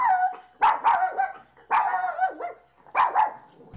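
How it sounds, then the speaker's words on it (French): A dog barks in three loud, close bursts of two or three barks each, with short whimpering yips between them and no other sound around. "L'aboiement d'un chien fait sursauter le raton laveur qui en échappe les graines."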